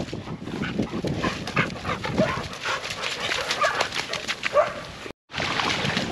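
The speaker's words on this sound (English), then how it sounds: "Dogs everywhere." Several dogs romp close by, barking, panting and whimpering in short bursts amid rustling movement, with a brief cut of silence near the end.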